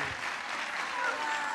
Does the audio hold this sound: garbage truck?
no